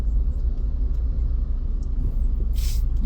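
Trucks rolling along a busy toll road, a steady low rumble of heavy traffic with a brief hiss of an air brake near the end, close and continuous with no talking.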